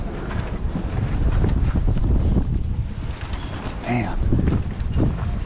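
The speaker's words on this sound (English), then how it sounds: "Big day in the wind." Strong wind buffets the microphone aboard a sailboat, a loud rushing gust roar filling the scene while someone speaks briefly over it.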